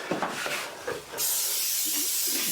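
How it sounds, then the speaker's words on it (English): A few soft clicks and clatters, then a loud, steady hiss of cooking spray coating a pan, close and sustained. "spray down a pan"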